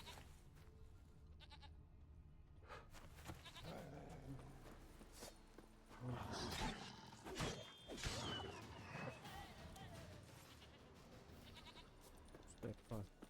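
A goat bleats in The Witcher 3 amid game ambience, with hooves clopping, scattered thuds and someone speaking over the scene; the bleats rise briefly near the middle.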